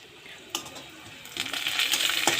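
Whole coriander seeds tipped into a little hot oil in a wok hit with a few sharp clicks, then a close, steadily building crackle and sizzle, with no voices.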